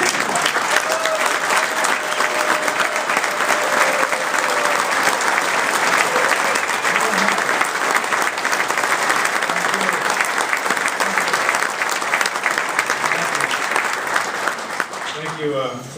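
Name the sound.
firefighters' union convention audience applauding and cheering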